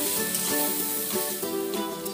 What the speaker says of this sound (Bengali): এখন আমি দিয়ে দেবো এর মধ্যে ভাত